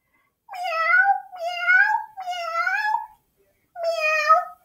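A cat meows four times in a row, each meow drawn out and clearly harmonic, with short pauses between the first three and a longer gap before the last, heard close and alone with no talk.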